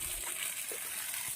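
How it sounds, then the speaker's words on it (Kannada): Water runs from a tap on farm land near a tar road in Begur. It makes a soft, steady, hissing trickle at low volume, with no talk. "ಇದು ವಾಟರ್ ಟ್ಯಾಪ್"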